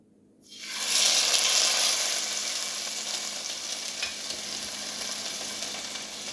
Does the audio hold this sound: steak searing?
yes